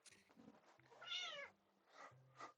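A pet cat meows several times up close, with a long rising-falling meow in the middle and shorter calls around it, in a quiet room.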